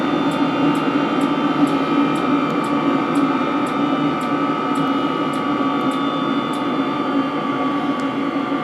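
A steady, continuous hum of the pump on a 16 kW diesel water heater, droning evenly with faint periodic ticks above it and no talk.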